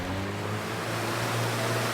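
Gentle water splashing and lapping in the video game Submerged: Hidden Depths, a continuous soft wash of noise with a low steady hum beneath it, even and unbroken, with no voices.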